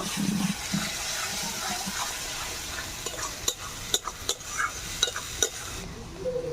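Ginger, garlic and cumin paste sautés with tomato paste in a pan for stuffed pointed gourd, a soft sizzle with repeated spatula scrapes and taps against the pan, faint and close, without talk.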